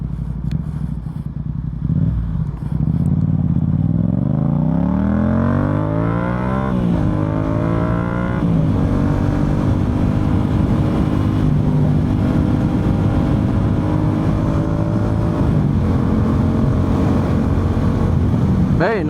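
A Yamaha MT-07 motorcycle fitted with an Akrapovic full exhaust rides past, its engine rising through revs in a loud, close growl that climbs, shifts and settles into a steady drone.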